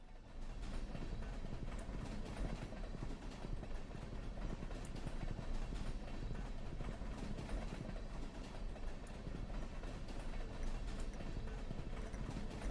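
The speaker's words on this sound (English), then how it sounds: "The sound effect that plays sounds like a train, like, going by, not like arriving and stopping." A passing train from the farming game Stardew Valley rolls by in a continuous rhythmic clatter of wheels and rumble, steady and unbroken with no sign of stopping.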